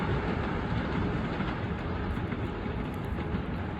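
A train rolls past at Harrison Station, a loud, continuous rumble and roar that stays close and steady throughout, with no voices over it.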